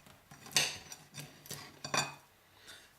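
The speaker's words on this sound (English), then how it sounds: "Nice sharp knife here, and we'll cut straight into this guy." A sharp knife cuts into homemade Zimbabwe-style biltong, dried in a wooden home box, giving several close, crisp scraping and tapping strokes against a board, spaced irregularly with brief pauses between.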